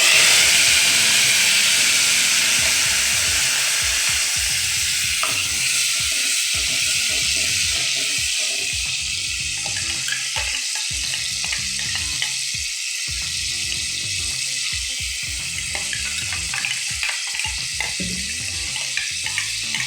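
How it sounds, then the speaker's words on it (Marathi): Spice masala frying in oil for Punjabi chole, a steady loud sizzle and hiss throughout with occasional stirring scrapes, easing slightly in the second half, no voices. "मसाला आपण आता तेल सुटेपर्यंत भाजून घेऊया."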